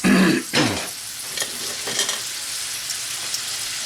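Calamari sizzles hard in a hot pan as tongs turn it, a loud burst of frying and clatter at first that settles into a softer steady sizzle with a few light scrapes.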